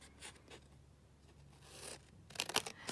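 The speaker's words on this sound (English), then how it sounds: "So this one, I might just cut straight down here, down this edge, and then just trim it off, height-wise." Scissors cut through a fabric scrap, giving quiet snipping and rasping strokes, with a louder burst of quick cuts near the end and no talk.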